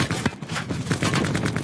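Rapid bursts of automatic gunfire crackle in the Call of Duty: Blackout video game, loud and close, firing in quick repeated volleys with no talk.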